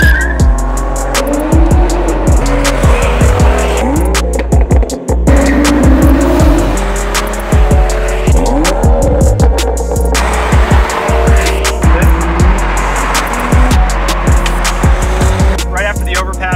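A 600-horsepower turbocharged, methanol-injected BMW F30 335i is driven hard, its engine drone loud and steady with repeated sharp transient clicks and pops, heard from inside the car without clear talk.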